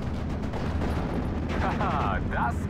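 Nebelwerfer rocket artillery barrage in the WWII game Steel Division: Normandy 44, heard as a steady dense rumble of distant fire, with whistling rocket-like sweeps rising over it late on.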